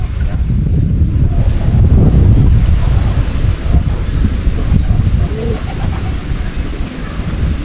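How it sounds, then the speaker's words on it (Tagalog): Strong wind gusts roar and buffet the microphone outdoors during a pigeon derby race, a loud continuous rumble with surging bursts and no pauses. "Lakas ng hangin mga kalapatids eh"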